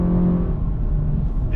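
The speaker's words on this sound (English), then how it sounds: "It's a peppy little engine." Interior engine sound of a 2024 Acura Integra A-Spec, a roughly 200-horsepower small engine, as it accelerates: a steady low rumble with a tonal drone that rises briefly, continuous and fairly loud with no talk.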